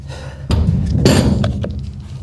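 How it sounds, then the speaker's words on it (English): A 1975 MGB that sat for sixteen years bumps against ratchet straps, giving heavy thuds and clunks with metallic clinks over a low rumble, close and loud, with no talking. "It must be hitting the ratchet straps again."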